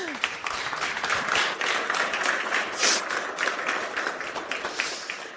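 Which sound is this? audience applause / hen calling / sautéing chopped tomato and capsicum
audience applause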